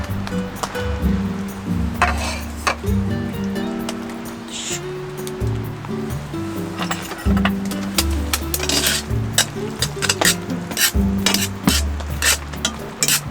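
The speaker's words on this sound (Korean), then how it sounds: "보글보글 끓기 시작하면 면을 넣어줍니다." Shin Ramyun Toowoomba ramen with cheddar cheese bubbling in a pot at a forest car-camping site in Wonju, Gangwon, with steady low simmering, clinks and stirring noises running throughout.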